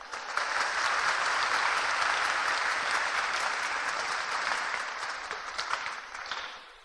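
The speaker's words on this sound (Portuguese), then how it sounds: "Pode aplaudir Nosso Senhor." Congregation applauding in a church, a sustained wash of dense clapping that holds steady for several seconds and then tapers off slightly toward the end.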